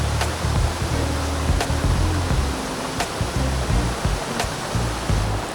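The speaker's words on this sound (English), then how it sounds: "I've never seen this waterfall in action like this, to be honest, before." A loud, constant roar of a mountain waterfall in full flow fills the air, steady and close, with faint low rumbling beneath.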